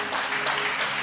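A brief burst of congregation applause fills a church, a dense, even patter of clapping heard for about a second.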